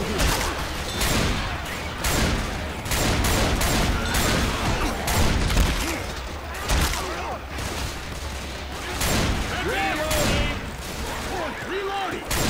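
Dense, repeated gunfire from the Left 4 Dead zombie shooter: rapid overlapping bursts and shots keep coming throughout, with players talking over the shooting.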